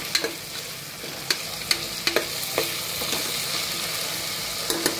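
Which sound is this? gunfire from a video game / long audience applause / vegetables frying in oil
vegetables frying in oil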